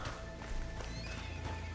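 Horses in Red Dead Redemption 2 clip-clop and whinny close by in a steady low rumble of hooves, with a few musical tones drifting over the scene.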